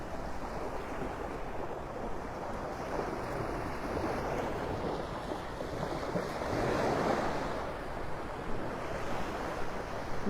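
Surf washes continuously onto Vanderbilt Beach in Naples, Florida, a broad, rolling roar of waves mixed with gusting wind buffeting the microphone, with no voices.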